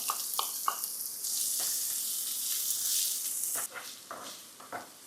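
Cumin seeds and onion hit hot oil in a pan for green lentil curry, giving a loud, bright sizzle that swells midway and then settles into softer crackles and stirring scrapes.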